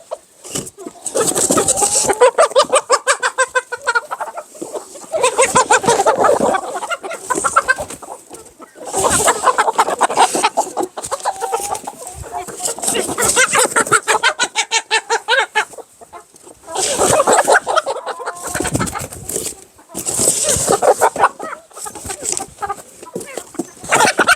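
Many laying hens clucking and squawking in repeated bursts, loud and close, with a voice talking in between.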